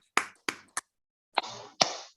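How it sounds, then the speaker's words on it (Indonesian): A handful of separate, sharp hand claps ring out at a public-service innovation competition presentation, a few close single claps with silent gaps between them rather than a full round of applause. "Kita berikan tepuk tangan untuk Ibu Kepala Badan dan Pak Menteri."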